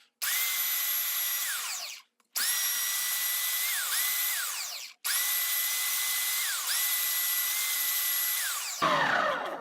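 A power tool sands padauk hardwood with a high, steady whine that rises and falls in pitch. It runs in three long bursts with brief stops, then ends in a rough scraping burst.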